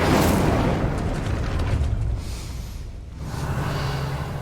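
In the Hogwarts Legacy video game, an Incendio fire spell blasts out with a loud rushing whoosh of flame that roars, briefly dips, then swells again, with no talking.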